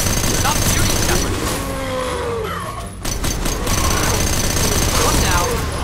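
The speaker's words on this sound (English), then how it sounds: "Stop shooting, Shepard!" Gunfire rattles through a mining facility in Mass Effect, dense bursts of rapid shots and sharp cracks over a noisy backdrop, briefly dropping away before resuming loud and continuous.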